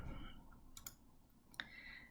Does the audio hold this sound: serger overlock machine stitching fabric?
no